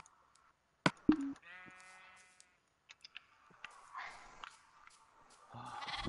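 Sheep in the Minecraft video game bleat in a couple of clear wavering calls, with scattered clicks and soft game noises around them.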